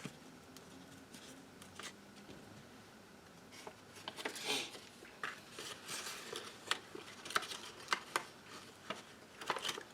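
Scissors snipping through paper while assembling a tri-fold mailer with journal, close and quiet, with a run of small sharp cuts and rustling that grows busier in the second half.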